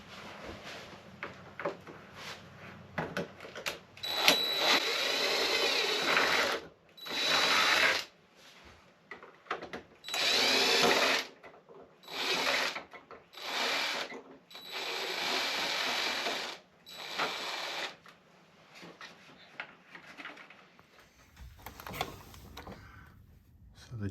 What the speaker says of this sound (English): The two screws there you unscrew and this part will come apart.